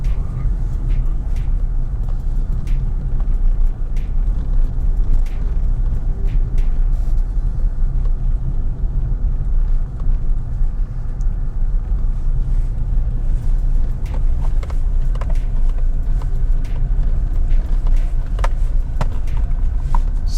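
A car drives over a bumpy rural road near Banana Ground in Manchester, Jamaica, giving a constant loud engine and road rumble with wind buffeting and scattered knocks and rattles throughout.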